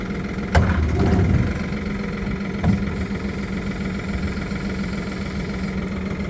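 The diesel engine of a Toyota 02-8FDL25 forklift idles in a steady, low, rumbling drone, close and continuous, with a couple of faint knocks near the start.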